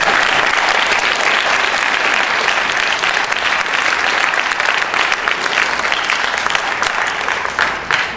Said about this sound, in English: A big hand while we're doing it for the band and for everybody's performance today.